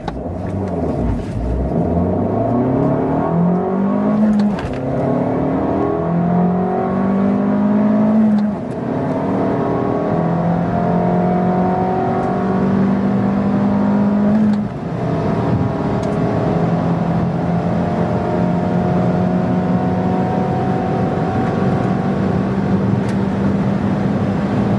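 A car fitted with the Abarth package pulls away from a stoplight and accelerates steadily, its engine note climbing through several gears with clear shifts, loud and close throughout with no talking.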